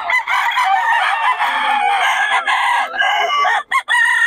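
A White Hatch gamecock rooster crows loudly and close, with a long strained call running almost without a break and a few clucks and gaps near the end.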